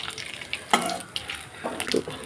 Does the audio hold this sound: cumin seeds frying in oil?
yes